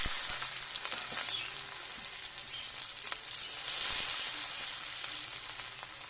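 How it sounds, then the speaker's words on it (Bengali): Steady, bright sizzle of onions frying in hot oil, a continuous crackling hiss with occasional pops, fairly close and alone. "পেঁয়াজটা ভাজা হয়ে গেছে"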